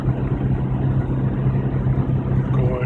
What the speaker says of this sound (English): I'm gonna just drive it in third gear so I don't slip the clutch